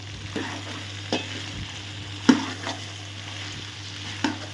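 Drumsticks and tomatoes cook in a pan for a masala drumstick kuzhambu, giving a steady, even sizzle with a few scattered spoon scrapes and taps, close by and without talk.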